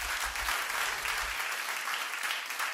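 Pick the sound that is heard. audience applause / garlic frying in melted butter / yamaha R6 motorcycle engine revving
audience applause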